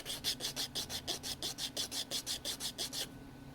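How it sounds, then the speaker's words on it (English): Quiet, close rasping of a nail file worked back and forth over a fingernail, about sixteen quick even strokes in a steady rhythm before stopping. "just keep filing and filing"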